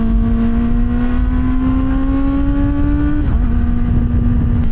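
A Kawasaki ZX-4RR sport motorcycle revs hard through a gear, its engine note climbing steadily before a quick-shifter upshift makes a brief dip. The roar then carries on loud, close and continuous, with constant wind rush underneath.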